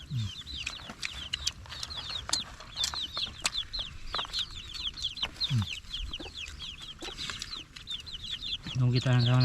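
Chickens cluck repeatedly in short bursts nearby, with people talking and a motor rumbling underneath; a louder mechanical tone rises at the very end.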